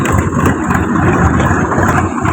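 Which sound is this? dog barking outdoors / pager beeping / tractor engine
tractor engine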